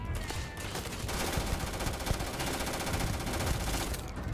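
Rapid pistol gunfire in the video game Starfield, a dense, loud stream of shots fired in quick succession for several seconds, heard alone without talk.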